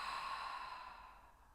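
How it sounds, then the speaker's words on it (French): A single long, deep exhale through the mouth during a guided yin yoga session for the neck and shoulders. The breathy rush is close and steady, then slowly fades, with no talking over it. "Et profonde expire."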